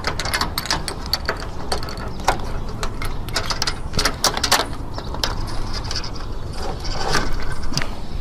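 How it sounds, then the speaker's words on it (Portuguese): Screws being fitted into a solar panel mounting rail, heard as a steady run of close metallic clicks and ratcheting taps that repeat irregularly over constant background noise, with no talking. "Vou botar já o segundo parafuso, depois eu venho apertando."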